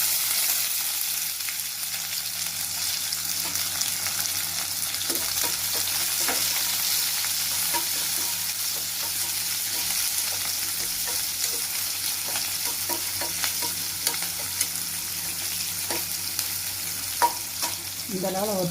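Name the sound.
small onions frying and being stirred for squid fry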